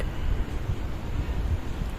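Steady low wind rumbling against the microphone in a garden, a continuous blustery whoosh with no voices.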